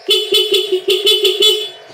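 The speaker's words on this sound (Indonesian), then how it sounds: "Klakson nyala oke." A motor vehicle's horn is tested in a series of about seven short, loud, close honks in quick succession, each a bright steady tone with tiny gaps between.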